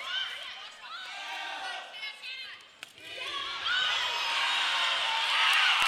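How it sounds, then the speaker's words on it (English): A gym crowd at a high school volleyball match between Albany High and St. Patrick St. Vincent roars and cheers, the noise dipping briefly around a sharp thud, then swelling louder and sustained with shouting voices mixed in. "The crowd is going crazy."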